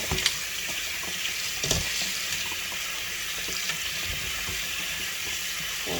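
Cold water from a kitchen tap runs steadily into a sink, a continuous close splashing rush with a few brief clinks, no voices.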